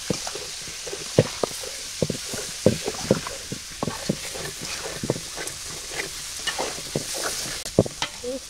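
Fish with potato and tomato fries in hot oil: a steady sizzle runs under a string of sharp, regular spatula scrapes against the pan, close and clear.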